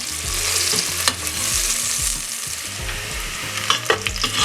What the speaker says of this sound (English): So the onions have been frying.